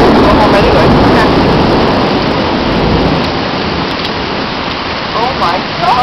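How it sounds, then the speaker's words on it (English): Torrential rain pours down during an evening thunderstorm, a dense, loud, steady roar of water that fills the whole span with little change. "It's like a torrential downpour."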